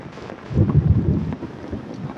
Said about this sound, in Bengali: দেখো বৃষ্টি, বাংলাদেশে বৃষ্টি খুব বেশি হয়।